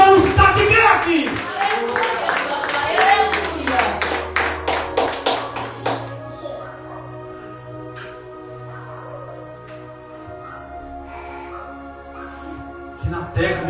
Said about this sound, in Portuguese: Então aplauda, glorifique e exalte